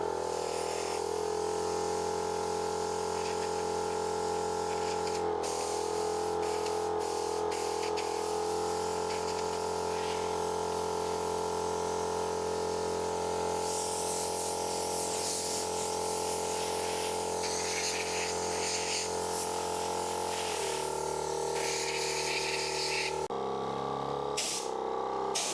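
A WOLFBOX HyperFlow 60D air inflator blows a steady, loud stream of air, used like an air compressor around 37-inch tires, with a continuous motor drone and hiss that shifts and cuts out near the end.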